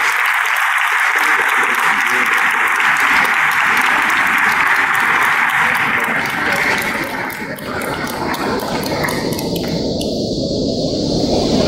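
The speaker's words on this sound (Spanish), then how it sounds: "Recibimos con un aplauso al estudiante Sergio" A dense wash of audience applause greets a student at the 2019 IMIQ awards ceremony, loud and sustained throughout, with a faint voice briefly surfacing as the clapping thins near the end.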